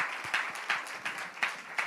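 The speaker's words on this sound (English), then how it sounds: "Please give our panelists a round of applause." An audience applauds panelists at a Bahamas real estate exchange event, a fairly faint, steady patter of many hands clapping for about two seconds with a few sharper claps standing out.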